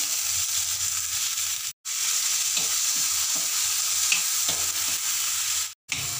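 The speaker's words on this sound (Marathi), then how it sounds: "तेल गरम झालेलं आहे, आता त्यामध्ये हे कढीपत्ता, त्यानंतर ही चटणी" Curry leaves and carrot chutney tempering in hot oil in a pan: a steady, bright sizzle and crackle with occasional scraping stirs, close and continuous apart from two brief dropouts.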